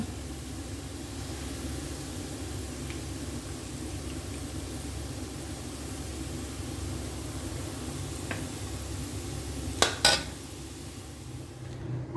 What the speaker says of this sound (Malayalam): ഇനി നമുക്ക് ഈ ഇഞ്ചിയും പച്ചമുളകും കറിവേപ്പിലയും കോരിയെടുക്കാം